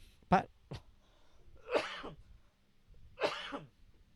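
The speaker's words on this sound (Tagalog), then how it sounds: "Meron pa po akong ubo after may tarangkaso." Several harsh coughs close to the mic from a person recovering from flu: a quick double cough, then two longer raspy coughing bursts separated by short pauses.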